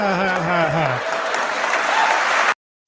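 A TEDx talk audience bursts into loud applause that starts under a speaking voice, keeps going, and then cuts off abruptly.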